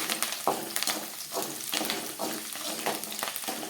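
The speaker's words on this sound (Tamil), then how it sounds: "கருவேப்பிலை போட்டு நல்லா வணக்கணும்" Curry leaves and garlic fry in oil in a pan for a curry leaf pickle, with a bright crackling sizzle broken by repeated scraping stirs every second or so. The sound is close and moderately loud, with no talking.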